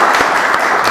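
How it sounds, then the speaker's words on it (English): Audience applause at a business breakfast event for Uzbek startup founders, a dense steady wash of clapping filling the whole second at even loudness with no voices over it. "Round of applause to you."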